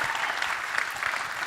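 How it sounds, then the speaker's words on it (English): Brief, dense applause from a gala audience at the TIME100 Gala, a steady crowd of many hands clapping at once, moderately loud and unbroken by speech. "We can clap."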